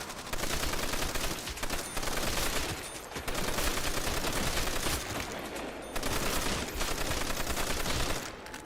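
Sustained light machine gun fire in Call of Duty Zombies on the Nacht der Untoten map, long loud bursts of rapid automatic shots separated by brief gaps, close and dominant.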